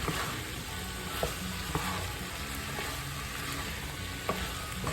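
Sautéed chayote squash seasoned with ground black pepper sizzles in a pan, quiet but steady, with a few soft clinks of a spoon stirring through it.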